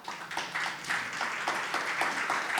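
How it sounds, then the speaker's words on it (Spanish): Audience applause at a talk or live event, a short burst of scattered clapping that stays fairly faint and even, with no voices over it. "Interrupción para aplausos"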